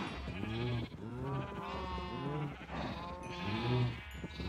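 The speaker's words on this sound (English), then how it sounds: "And now we shear the sheep." Repeated sheep bleats in the Minecraft video game, several wavering calls in a row, loud and close with no talking.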